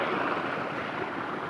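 Irrigation water rushes through a pipe into a castor field after the valve is opened, a steady close hiss and gurgle of flowing water, continuous and moderately loud with no voices.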